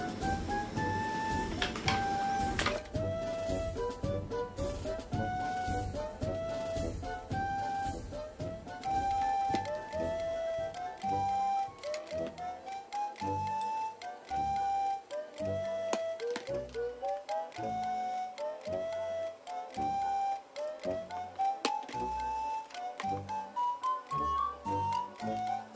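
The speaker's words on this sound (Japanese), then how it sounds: "ミシンで縫っていきます。" A sewing machine stitches the folded hem of a cushion cover, its rapid, steady mechanical ticking running almost the whole time beneath background music.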